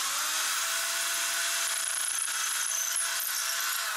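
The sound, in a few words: power drill drilling into stone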